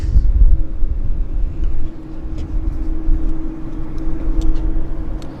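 An American Airlines Embraer jet comes in to land at Vancouver airport, a steady low rumble of engine noise holding through with slight swells, nearby and fairly loud, with no talking.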